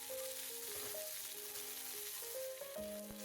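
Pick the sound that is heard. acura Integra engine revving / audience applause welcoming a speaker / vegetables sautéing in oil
vegetables sautéing in oil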